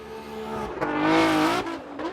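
A VR-powered Nissan 370Z drift car in Formula Drift qualifying at Irwindale screams past nearby, its engine climbing and holding at high revs amid tire noise, then dropping off sharply.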